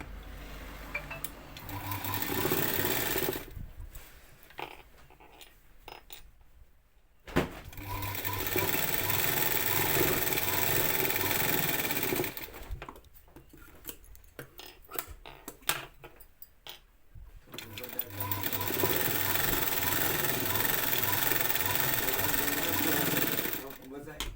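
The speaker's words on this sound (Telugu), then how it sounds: "ఇగో ఈ విధంగా మిషన్ కాజాలు వేసేసిన కదా" A sewing machine stitches buttonholes into a finished blouse in three long, loud, fast-rattling runs separated by short pauses filled with handling clicks and light rustle.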